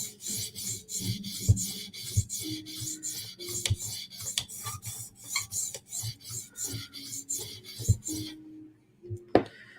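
Steady rhythmic rasping strokes of a blade drawn across a sharpening stone to remove the burr, about twenty even passes in a row, close and moderately loud with a few faint knocks underneath.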